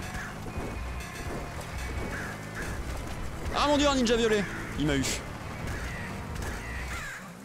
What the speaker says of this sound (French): Tiens, sale corbeau.